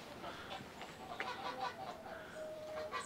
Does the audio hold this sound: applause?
no